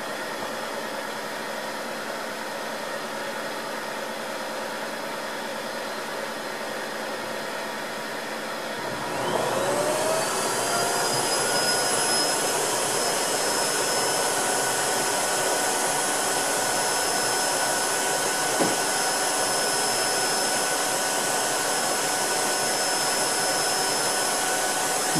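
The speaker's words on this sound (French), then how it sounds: "Là, l'aspirateur continue de fonctionner. Il est en train d'aspirer et de sécher complètement la brosse." A Tineco iFloor 3 wet-dry floor-washing vacuum hums quietly at first, then switches into a louder, steady whine with a high-pitched motor tone around nine seconds in and keeps running evenly to the end.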